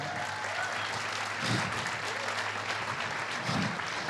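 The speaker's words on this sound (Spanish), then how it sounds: "Un aplauso a Santiago, aleluya." A church congregation applauds Santiago, the star keyboardist standing for recognition, with steady broad clapping throughout and a couple of louder swells.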